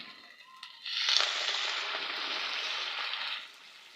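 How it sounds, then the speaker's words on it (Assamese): Hot water poured into a pan of egg masala curry sets off a sudden loud hissing sizzle that holds strongly for a few seconds, then drops back to a quiet simmer. "এতিয়া ইয়াতে গৰম পানী দি দিম"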